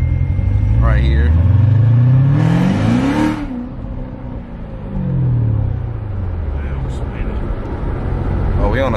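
A Chevrolet Corvette C7 Z06 engine on stock tires with a slow tune, revving up and down through several loud, rising and falling sweeps with a deep rumble, close by and steady throughout.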